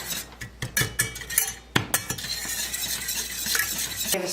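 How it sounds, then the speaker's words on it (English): A spoon stirs vegan caramel sauce in a pot: several sharp close clinks against the metal at first, then a steady scraping swirl with faint bubbling underneath. "just keep stirring, and it will thicken up just like a caramel sauce"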